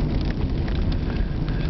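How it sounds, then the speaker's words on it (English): Steady rain falls outdoors as a dense, even patter with a soft rumbling wash underneath, continuous and fairly loud throughout, with no talking. "I'm taking this video in the rain"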